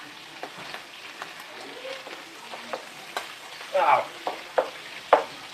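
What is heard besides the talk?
shrimp sizzling while turned in a pan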